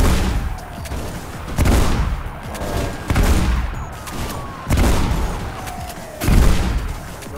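Enemy gunfire in the video game Mirror's Edge: loud, sharp volleys break out in repeated bursts about every second and a half over a steady game backdrop, with no talking.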